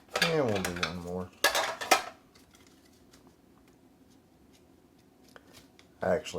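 A deck of Overseers game cards being shuffled, a couple of quick riffling bursts near the start, then a long quiet stretch with faint handling before a voice starts talking at the end.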